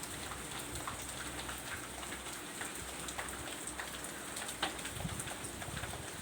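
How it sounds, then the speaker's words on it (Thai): Steady rain falls across the whole stretch, a dense even hiss with scattered louder drops striking nearby surfaces, heard alone with no voices, during a seasonal downpour over a grape farm. "พอดีฝนมาตก"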